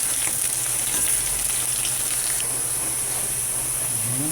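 Potatoes fry in a pan with a loud, constant sizzle and hiss, heard close up with no talking.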